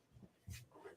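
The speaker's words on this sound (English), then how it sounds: "This dude's being a crazy dog." A playful dog whimpers and yips a few times in short, faint bursts, heard close by in a quiet room.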